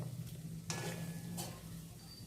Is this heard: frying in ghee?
yes